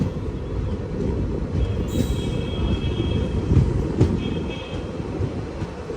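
The Madurai–Guruvayur Express pulls into Thenmala railway station, a loud, continuous rumble of wheels and carriages with faint wheel squeal and a brief high whine.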